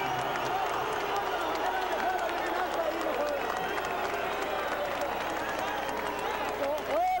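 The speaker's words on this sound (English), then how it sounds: "some well-deserved applause as the fans recognize what a good fight Esparragoza really did fight" A boxing arena crowd applauds and cheers a newly crowned WBA featherweight champion after a technical knockout, a dense, steady wash of clapping and crowd noise with a voice carrying over it throughout.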